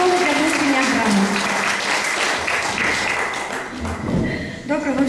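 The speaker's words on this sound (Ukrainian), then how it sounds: "Ваші оплески." Dense, sustained audience applause at a children's music school event, a continuous crowd wash with voices audible through it, easing slightly near the end.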